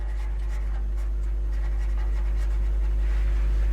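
A teacher writes on a board, making a soft, steady scratching with faint repeated strokes over a constant low hum, with no talking.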